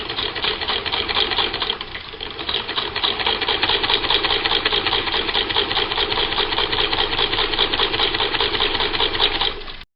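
A sewing machine stitches a French seam from the armhole down to the hem, its rapid, even needle chatter running loud, close and continuous before cutting off abruptly.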